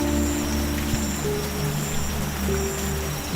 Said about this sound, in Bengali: একে তো ঠান্ডা বাতাস তার উপরে ঝুম বৃষ্টি